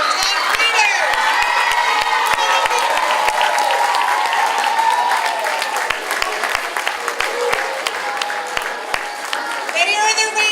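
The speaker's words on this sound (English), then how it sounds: "give a huge round of applause to our top readers" A school crowd of children at an academy celebration applauds and cheers loudly for top readers, with continuous clapping, shouts and whoops throughout.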